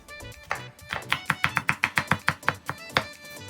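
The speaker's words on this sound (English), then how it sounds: "Next, I'm going to finely chop some red onion." A knife finely chops red onion on a board, with a quick run of about fifteen sharp, evenly spaced taps that is close and clear, then slows to a few last chops.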